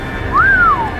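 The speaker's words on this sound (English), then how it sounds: "The man whistled." A man gives a single short whistle, a clean note that rises and then glides down over about half a second, close and clear against quiet room background.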